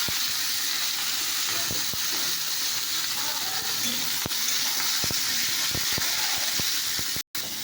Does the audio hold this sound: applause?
no